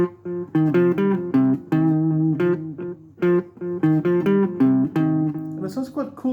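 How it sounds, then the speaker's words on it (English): Electric guitar notes ring out one after another, each trailing into repeating echoes that blur together into a spacious, washy sound. "if you got a bit of echo on your electric guitar,"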